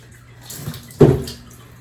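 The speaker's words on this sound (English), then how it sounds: "Just rinse it out." A recycled towel rag rinsed out in a small amount of water, a soft trickle followed by a sudden, louder close splash and slosh that fades quickly.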